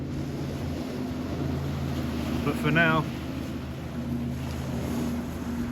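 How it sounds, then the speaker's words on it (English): Steady low engine drone of a boat out on the sea off a UK beach, with wind noise and a person speaking briefly over it. "One day I'll have a boat like that"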